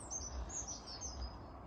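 Birds chirp repeatedly in short high tweets over a steady low background hum, heard outdoors around a home near an area where ships pass.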